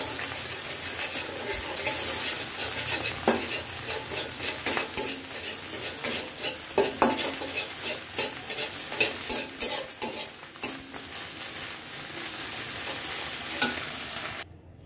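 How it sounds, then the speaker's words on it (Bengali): Egg beaten with a little salt scrambles in a small amount of oil, giving a continuous close sizzle broken by frequent scraping and stirring strokes for about fourteen seconds before stopping abruptly. "ডিমটা একটু লবণ দিয়ে ঘুটে সামান্য একটু তেলে স্ক্র্যাম্বল করে নেব"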